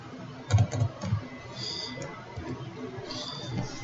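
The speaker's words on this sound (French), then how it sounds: "je vais faire au clavier, ça sera un petit peu plus rapide" Someone types quickly on a computer keyboard to enter a calculation, producing a short burst of loud close clicks followed by lighter intermittent taps.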